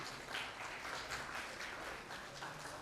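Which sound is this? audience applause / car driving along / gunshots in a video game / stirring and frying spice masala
audience applause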